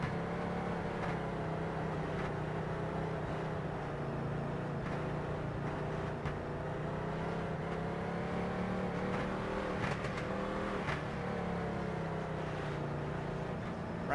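Junior late model race cars run at the Las Vegas Bullring in a racing video game, a continuous blend of engines droning and revving throughout, with occasional surges as cars pass.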